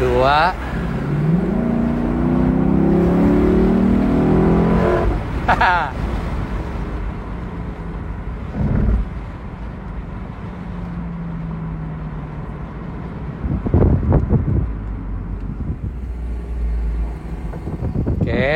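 A Lexus car accelerates hard, its engine note sweeping upward in pitch for about five seconds and then dropping back. Wind noise follows, with further short engine bursts and a few brief spoken words.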